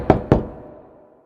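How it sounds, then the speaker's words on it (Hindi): Two sharp knocks on a door, close and distinct, in a Hindi fairy tale telling of Thumbelina, each rap decaying quickly into silence. "थम्बलीना ने दरवाजा खटखटाया"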